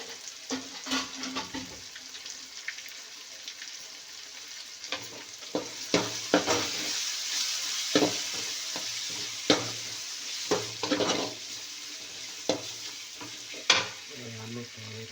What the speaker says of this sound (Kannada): ಹಾಕಿ ಚೆನ್ನಾಗಿ ತಿರೋಬೇಕು.